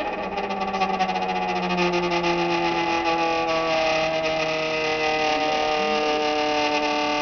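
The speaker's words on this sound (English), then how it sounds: "you hear the funny noise of the dry ice on the table" A block of dry ice sits on a table and vibrates as escaping gas rocks it, giving a steady, loud, continuous buzzing drone with wavering tones and no pauses, heard close up with no talking.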